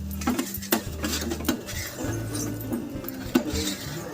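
A bronze kansa plate handled on a kitchen counter, giving a few soft metallic clinks and knocks spread over a few seconds, close by, with no talk.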